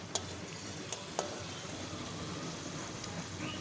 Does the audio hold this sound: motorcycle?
no